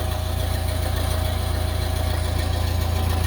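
A Case 1845 skid steer's diesel engine idles with a steady, even low rumble and throbbing pulse, loud and close, running alone without any talk.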